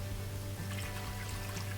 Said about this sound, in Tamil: இப்போ தண்ணியை உள்ளே சேர்த்துலாம்.